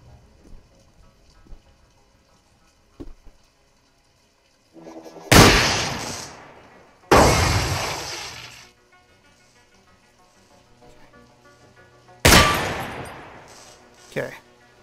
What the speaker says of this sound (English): I took 2 shots accidentally there.